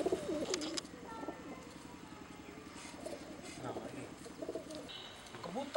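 Pigeons kept by a pigeon fancier coo softly and steadily in a rhythmic low burble, close by, while people talk over them.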